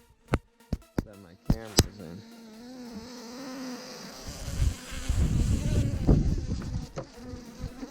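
Honeybees buzz in a steady, rising drone as their hive is opened, with a few sharp knocks and taps at the start before the swarm noise swells up close.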